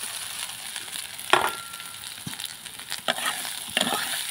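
Mashed potatoes fry with spices in a pan, a low continuous sizzle broken by a few scraping strokes of a spatula stirring and turning the mash.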